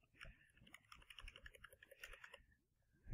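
Rapid, quiet typing on a computer keyboard during a modded Minecraft session, a close run of light key clicks in an irregular rhythm with no talk.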